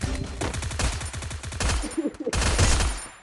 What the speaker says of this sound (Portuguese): Nossa, um tiro.